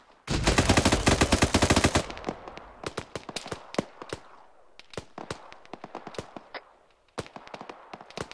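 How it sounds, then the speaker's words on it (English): Automatic gunfire from ArmA 3 soldiers: a dense two-second burst at the start, then scattered single shots and short volleys of varying distance cracking on for several seconds, with no talk. "We're taking fire from the east there."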